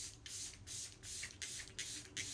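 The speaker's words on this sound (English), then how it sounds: "With a setting spray like this" Several short hissing bursts of makeup setting spray, about five in a row with brief pauses between, close and fairly quiet.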